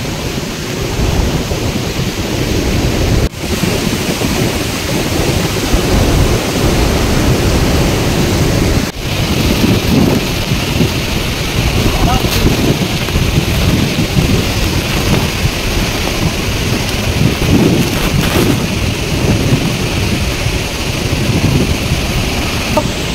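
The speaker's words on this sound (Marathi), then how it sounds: "हा बघा माझ्या मागे नाणे फॉल दिसतोय" Nane waterfall gives a loud, continuous roar of falling water, broad and steady throughout with no talk over it.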